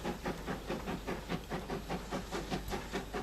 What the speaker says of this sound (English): Another B1 leaves on a short mixed freight.